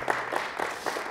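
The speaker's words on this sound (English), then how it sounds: "if you could give our guest speaker a round of applause" Audience applause for a guest speaker at an Air Force talk, a steady wash of many hands clapping throughout, fairly loud and continuous with no voices over it.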